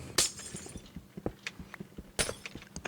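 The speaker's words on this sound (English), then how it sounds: "I'm breaking the glass" Glass blocks break in the Minecraft video game, giving two sharp, bright shattering crashes a couple of seconds apart, set among small clicks and light thumps of gameplay.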